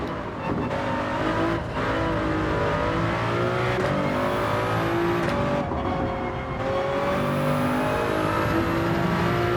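A Toyota Supra races in Gran Turismo 7, its engine droning loud and steady throughout with rising and falling revs as it works over curbs, plus faint tire noise and other cars around.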